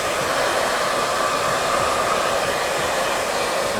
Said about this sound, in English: That's what the blow dryer is for.